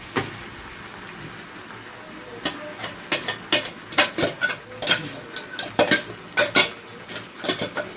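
A spoon stirs spice paste into a frying pan of chicken, scraping with irregular clinks and taps, close and moderately loud against a faint background hum.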